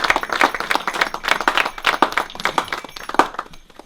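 Wedding guests clap in a small, uneven group, individual hand claps distinct and fairly close, a quick irregular patter of sharp slaps rising and falling for several seconds.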